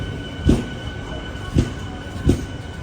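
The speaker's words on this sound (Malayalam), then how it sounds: "നാല് 48 മേട്ടുപ്പാളയത്ത് നിന്ന് ഇതാ ട്രെയിൻ എടുത്തിരിക്കുകയാണ്" A train pulling out of Mettupalayam station, its wheels knocking over rail joints in three evenly spaced thumps over a steady rumble and hiss, with no talk.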